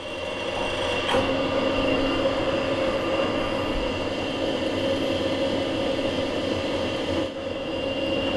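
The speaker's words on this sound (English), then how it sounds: "If I started up, you'll see all these whizzing round and the lead screw whizzing round too" A metal lathe runs at low speed while its change gears and lead screw spin, making a steady mechanical whir and hum with a faint whine and a couple of brief clunks, and no talking.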